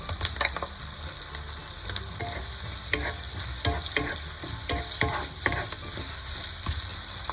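Beef stir-fried with onion slices in a hot wok for fried beef noodles: loud continuous sizzling close up, broken by repeated scraping and tossing strokes of the spatula at an uneven rhythm, with no talking.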